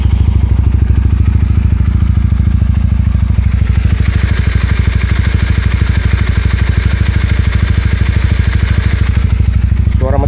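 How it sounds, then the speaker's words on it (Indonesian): A touring motorcycle on a solo ride across Borneo runs its engine steadily, a loud, close, rhythmic low-pitched thrum that holds evenly throughout, with a rise in higher-pitched mechanical noise partway through. "Untuk suara mesin masih enak ya."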